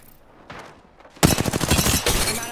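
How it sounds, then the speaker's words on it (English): Gunfire in a shooter video game: after a brief quieter burst, a loud rapid volley of automatic shots breaks out and continues to the end, close and dense. "They spotted me. I'm taking shots."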